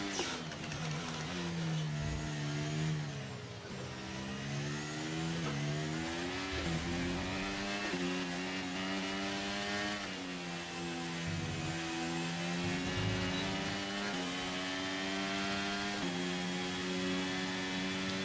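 An F1 car engine in the F1 23 racing game drones at high revs, its pitch stepping up and dropping back through repeated gear changes, loud and continuous with no talking.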